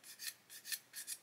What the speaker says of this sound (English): little sanding stick, and I'm also going to sand that front edge off there so the interior is looking nice